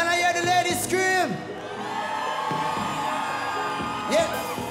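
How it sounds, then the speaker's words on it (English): Concert audience with women screaming and cheering during a live show at Rockpalast in 2019, a loud sustained crowd roar under music with shrill whoops rising at the start and again near the end. "can I hear the ladies scream?"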